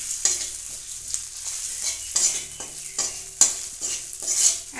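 Ground spices such as coriander powder and turmeric frying in a pan for green peas kachori filling, heard as a close, crackling sizzle broken by repeated sharp spatula scrapes and taps in an irregular rhythm.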